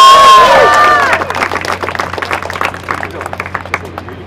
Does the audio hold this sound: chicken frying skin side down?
no